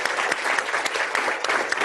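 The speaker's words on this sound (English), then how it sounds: "So round of applause for those guys." Audience at a faculty meeting applauding steadily throughout, a dense, even wash of many hands clapping at close-to-moderate distance with no talk over it.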